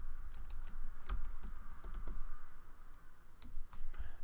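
Fast typing on a computer keyboard, the word bioconductor being entered, heard as a run of close, crisp key clicks over a low room hum with no talking.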